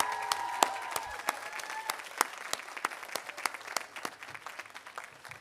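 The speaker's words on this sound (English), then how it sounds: "I think we owe them a round of applause and support." Audience applause at a medical school class day ceremony for health sciences graduates: sparse, individual claps spread across a hall, moderately distant and fairly soft, continuing steadily without voices.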